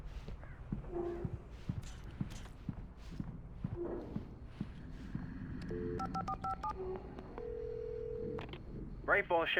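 Footsteps and clicks are followed by a series of short telephone keypad tones and a sustained tone, with voices speaking intermittently, as a phone is dialed inside a gas station in Alan Wake Remastered.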